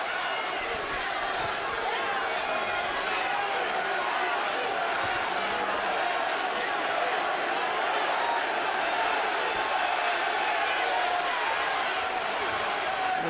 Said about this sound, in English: The crowd senses that Pavlik is getting himself back into the fight, and they're trying to help him get there.